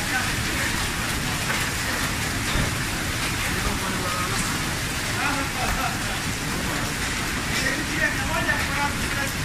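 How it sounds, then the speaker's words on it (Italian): Large hailstones as big as walnuts pelt down during a storm in Modena, a continuous dense clatter and hiss with occasional sharper impacts, while people talk underneath. "mi diceva che a Milano stava grandinando e è arrivata qua"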